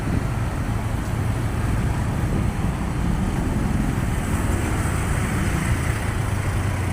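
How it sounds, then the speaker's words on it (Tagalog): Heavy afternoon road traffic in Mandaue City, Cebu: a constant low rumble of engines and passing vehicles with a broad windy hiss, steady throughout and without speech. "So heavy traffic at the time 4 p.m. in the afternoon."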